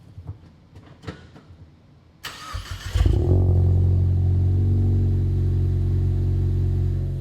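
A 2015-2023 Ford Mustang Fastback EcoBoost with an MBRP 3-inch Race cat-back exhaust cranks and fires up loudly after a few faint clicks. It then settles into a deep, steady idle rumble close by.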